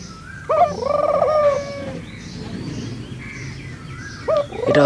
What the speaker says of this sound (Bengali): এটা হচ্ছে ঘুঘু পাখির ডিম পাড়ার লক্ষণ। দুটোটা ডাকতেছে, ব্রিডিং মোডে আছে এখন।